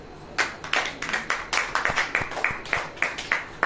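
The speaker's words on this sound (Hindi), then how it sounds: "ताली बजाएं।" Congregation at a Hindi-language sermon clapping in a loose, uneven run of sharp individual claps, fairly close and moderately loud, with no speech over it.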